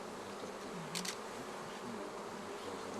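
Honeybees buzz steadily as a frame is lifted out of a hive, a close, continuous droning hum with a wavering pitch and no voices.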